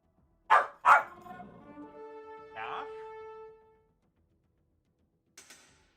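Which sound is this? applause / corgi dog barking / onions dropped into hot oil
corgi dog barking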